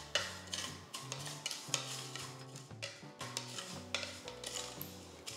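Vermicelli (semiya) with crushed cardamom is roasted and stirred in a pan, giving soft, repeated scraping and rustling strokes in a steady rhythm, heard faintly over tonal background music.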